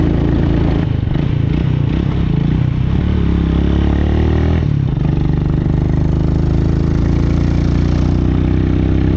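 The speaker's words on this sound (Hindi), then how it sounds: "पावरफुल स्कूटर है और हम घुमावदार रास्तों से पहाड़ के ऊपर जा रहे हैं।" A powerful scooter engine labors steadily up a winding mountain road. The motor drones loud and close throughout, with a rough, clattering edge and a brief dip in the middle.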